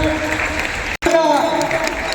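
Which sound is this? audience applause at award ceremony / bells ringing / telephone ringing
audience applause at award ceremony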